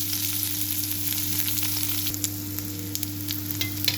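Onion, green chili and curry leaves fry in hot oil, a loud, even, close sizzle with occasional stirring scrapes and a low steady hum underneath.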